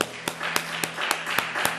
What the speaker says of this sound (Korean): 하나님께 감사의 박수 드리겠습니다.